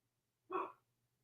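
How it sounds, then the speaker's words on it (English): A single short dog bark, quiet and somewhat distant, over a faint low hum. "Why is my dog barking?"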